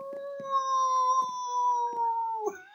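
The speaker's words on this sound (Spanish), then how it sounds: "Soy un aullador." A werewolf in the video game Minecraft howls in a long, sustained, wavering tone for nearly three seconds, loud and close, with a few faint clicks and game thuds underneath.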